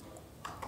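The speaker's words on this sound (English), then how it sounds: "I'll type 3 and RD." Two quick keystrokes on a computer keyboard while entering text in Microsoft Word, faint and close against a quiet room hum.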